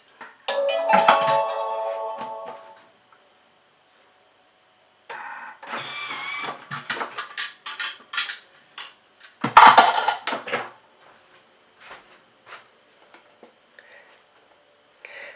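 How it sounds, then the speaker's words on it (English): A blender chops and mixes a vegan no-bake coconut cheesecake mixture in short, loud whirring bursts separated by silent pauses, ending in a few light taps. "So I'll chop and mix it until it becomes the consistency we need."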